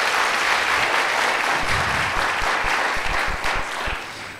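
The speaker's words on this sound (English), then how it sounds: "let's give them a round of applause" A school hall crowd at a 5th grade celebration claps in a sustained round of applause for award winners, dense at first and then thinning into scattered claps near the end.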